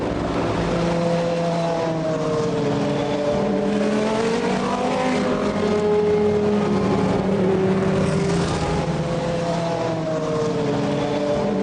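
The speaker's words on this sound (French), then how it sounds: "les voitures entament le tour de chauffe avant le début de cette 70e édition des 24 heures du Mans" Race cars at the 2002 24 Hours of Le Mans set off on the warm-up lap, with several engines revving and droning together in a steady, loud roar that rises and falls as the cars pull away.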